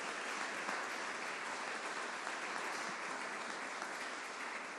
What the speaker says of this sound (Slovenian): si zasluži en aplavz